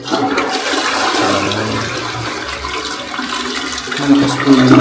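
A toilet flushes with a loud rushing swirl of water that surges again near the end, close by, with no voices.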